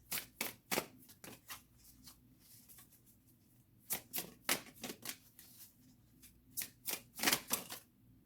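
Tarot cards being shuffled and drawn make bursts of crisp riffling and flicking, close and fairly quiet, with short pauses between the clusters of card snaps.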